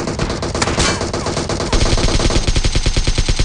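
Sniper and assault rifle gunfire in the mobile game PUBG Mobile, loud and close, with dense overlapping shots followed by a steady rapid automatic burst of sharp evenly spaced reports.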